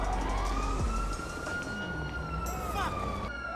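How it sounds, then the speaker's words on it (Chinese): A police car siren in the GTA 5 video game wails in long rising and falling sweeps, moderately loud over a low engine rumble, with brief crashing noises near the end and no talking. "警车来了啊！"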